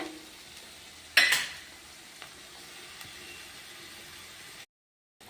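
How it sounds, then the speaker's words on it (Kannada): Food fries in a pan until golden, a faint steady sizzle broken by one louder clatter of stirring near the start, before the sound cuts out briefly at the end. "ಇದು ಗೋಲ್ಡನ್ ಕಲರ್ ಬರೋವರೆಗೂ ಫ್ರೈ ಆಗ"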